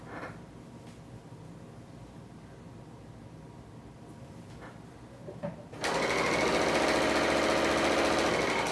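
A Bernina L890 serger trims a narrow strip of about an eighth of an inch from fabric edges. Quiet machine noise gives way to a loud, steady, fast mechanical whir that runs on continuously.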